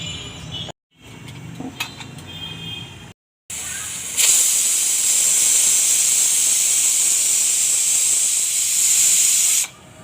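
A pressure cooker used for cooking chicken vents a loud, steady hiss of escaping steam for several seconds after some brief quieter kitchen clatter, with no talking over it.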